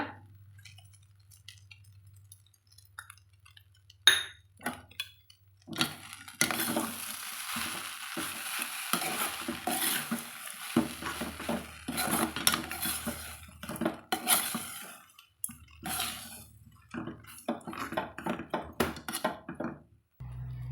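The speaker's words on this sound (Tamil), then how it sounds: "அதையே நான் இதுக்குள்ளே ஊற்றிக்கிறேங்க ஊற்றி நல்லா கலந்து விட்டுக்கணுங்க" Idli upma with lemon juice and turmeric stirred in a pan, a spoon scraping and clinking against the metal in steady bursts over a faint sizzle, with no voices.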